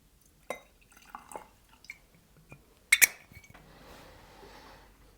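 Wild Turkey bourbon poured into a glass, with a sharp glass clink near the middle followed by a soft, steady trickle of liquid, close and fairly quiet after a few light taps.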